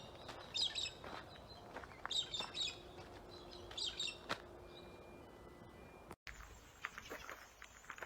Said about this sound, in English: Check out these baby zebra finches